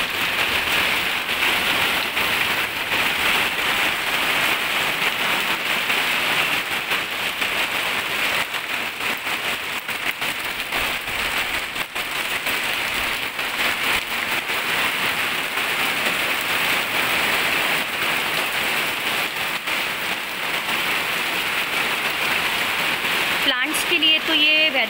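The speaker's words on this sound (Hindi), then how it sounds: "तो बहुत तेज़ बारिश स्टार्ट हो गई है यहाँ पर।" Heavy rain pours steadily on a terrace garden in Ajmer in March, a dense, loud and even hiss lasting throughout with no break.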